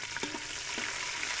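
Onion frying in a pan with garlic for a seafood tinola, a steady close sizzle with a couple of soft stirring knocks near the start.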